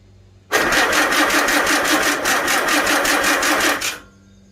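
A Farmall Super A tractor engine catches and runs with a fast, even putter for about three and a half seconds, loud and close, then cuts off abruptly.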